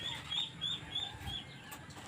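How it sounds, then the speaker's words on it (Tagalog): Chickens on a farm, including Rhode Island hens near a brood cock, cluck and call in short repeated bursts over a noisy background, with no voices heard. "Dami na tayo manok"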